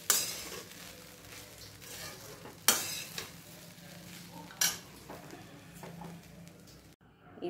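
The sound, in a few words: stirring matar poha in a pan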